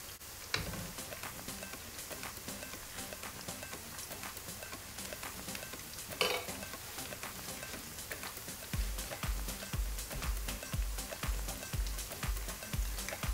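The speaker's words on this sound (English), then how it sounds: "keep frying them and keep them in the oil" Pakoras sizzle and crackle in hot oil, with occasional scrapes and knocks of a utensil stirring, and a rhythmic thumping in the background later on.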